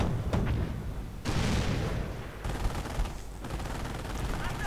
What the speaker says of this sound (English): Mortar rounds flying.